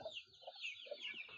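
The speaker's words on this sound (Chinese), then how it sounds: "这里就是五只鸡" Chickens, including a young rooster, gathered on a cliff top beside a small overhanging tree at dusk on a rural hillside, clucking softly in a few short, faint calls spread out with quiet gaps.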